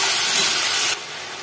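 Spice paste dropped into a hot pan of fried yardlong beans and potatoes, a loud, bright hiss that holds steadily, then abruptly drops to a softer sizzle; no speech.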